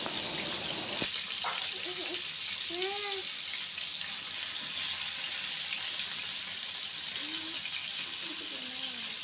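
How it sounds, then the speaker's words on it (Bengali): Potatoes fry over a low to medium flame for dhaba-style matar paneer, giving a steady, even sizzling hiss throughout, with a few faint voice-like tones drifting in briefly. "আলুগুলোকেও কিছুক্ষণ লো টু মিডিয়াম ফ্লেমে একটুখানি ভেজে নিতে হবে"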